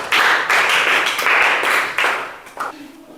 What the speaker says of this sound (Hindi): इसलिए छोटी अनुराधा के लिए एक जोरदार ताली बजना चाहिए